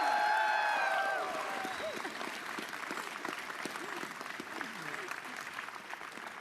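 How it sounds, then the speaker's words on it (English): A political convention crowd breaks into applause, a steady wash of clapping that follows a brief tonal sound at the start, with some voices faintly underneath. "That deserves a louder applause."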